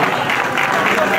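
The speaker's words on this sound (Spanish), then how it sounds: "un fuerte aplauso para él" Crowd at a mountain race event applauds the winner, a continuous wash of clapping throughout, with speech mixed in over it.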